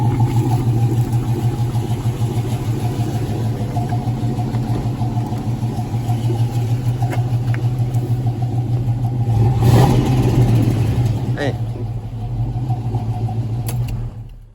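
A Chevy box car engine rumbles steadily at idle close by with a deep throaty drone, swelling into a brief rev around the middle before easing back and dropping off at the very end.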